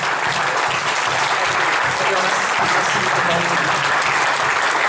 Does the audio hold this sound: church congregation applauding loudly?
yes